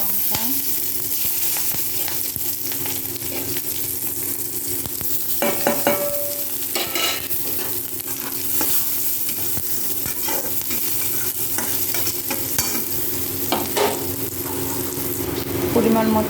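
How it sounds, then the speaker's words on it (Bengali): Garlic, black cumin and dried chillies sizzle in hot oil in a wok, a continuous crackling fry with stirring clatter throughout and occasional background voices. "কড়াইতে আমি দিয়ে দেবো রসুন ফোড়ন, কালো জিরে, শুকনো লঙ্কা,"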